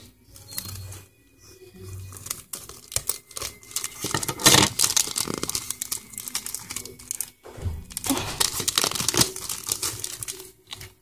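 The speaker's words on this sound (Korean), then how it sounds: "아 가위로 한번 잘라보도록 하겠습니다." Scissors cutting a Doraemon sticker sheet, with crisp crinkling paper, snipping and handling noises in uneven bursts, close and with no talk.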